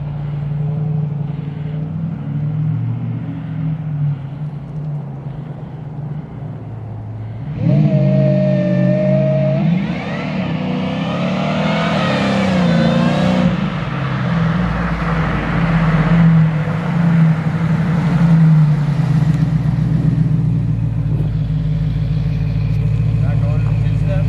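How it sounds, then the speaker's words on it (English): A 1968 Dodge Coronet with a trans brake does a loud burnout, the V8 engine rumbling at idle before revving hard into a sustained screaming roar, with people talking and shouting over it. "loud car. It's just burnout."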